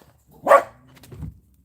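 Dog barking outdoors on a farm, one sharp bark followed by a lower, softer yip or whine, fairly close and alone.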